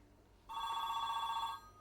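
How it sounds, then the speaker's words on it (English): A single electronic telephone ring sounds for about a second, clear and moderately loud over a quiet room, then stops. "And there's the phone."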